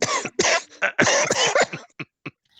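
Several sharp coughs in quick succession, loud and close, tapering into a few short, lighter coughs with gaps between them.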